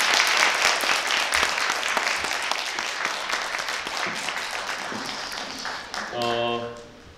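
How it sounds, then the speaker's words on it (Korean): Audience applause after a lecture at a university forum, sustained clapping that fades near the end as a voice begins and a short tone sounds. "큰 박수 부탁드리겠습니다."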